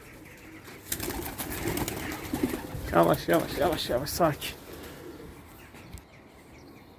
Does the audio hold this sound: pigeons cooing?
yes